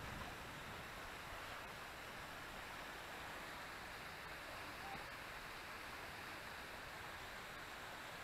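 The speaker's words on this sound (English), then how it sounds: "You get these waterfalls for a little while." Waterfalls at Paw Paw running after heavy rain, with swollen streams giving a steady, soft broadband rush of falling water that holds constant throughout, distant and fairly faint.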